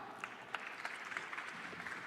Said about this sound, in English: So please give Kyle a massive round of applause.